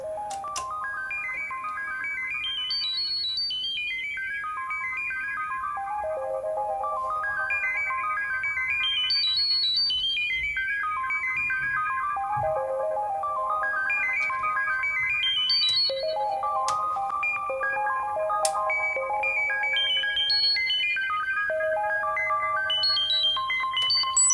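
A Moog Grandmother analog synthesizer, its filter resonance used as an oscillator, plays bright melodic tones cascading in repeating arpeggio-like patterns, each note echoing with delay repeats, steady and continuous with no voices.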